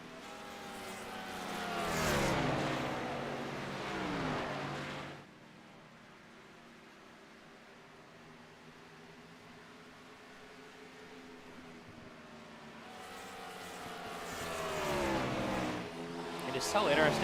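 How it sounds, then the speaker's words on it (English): NASCAR Cup Series race cars in the iRacing video game scream past at high RPM, with engine notes rising and falling through downshifts, loud in two bursts separated by a quieter lull of distant engine drone. "It's so interesting to hear the downshifts, how like high their RPMs are."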